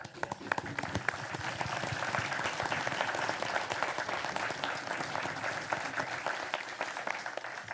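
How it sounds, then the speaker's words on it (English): A crowd applauds steadily at a county commission meeting, many hands clapping at once in a dense, continuous burst. "let's give you a round of applause"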